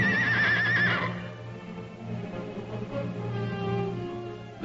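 Wild mustang horses neigh in a loud, wavering whinny for about a second, then a mixed herd murmur of snorts and shuffling carries on at a steady level beneath a low drone.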